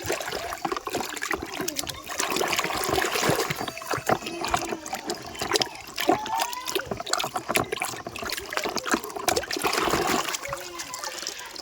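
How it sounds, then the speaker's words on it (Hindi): A dirty toy auto-rickshaw is washed in water, with continuous splashing and trickling throughout, fairly close and with no talking. "चलो इसको पहले पानी में क्लीन करते हैं"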